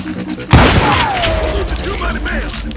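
A sudden loud blast of video game gunfire is followed by a rumbling, echoing tail with faint whistling tones fading over the next couple of seconds.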